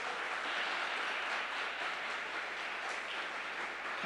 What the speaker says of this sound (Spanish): Denle un aplauso a Jesús por eso